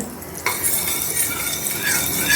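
Butter melting in hot oil inside a pressure cooker, giving a soft steady sizzle with light stirring and utensil scrapes close by.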